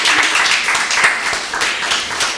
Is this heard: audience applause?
yes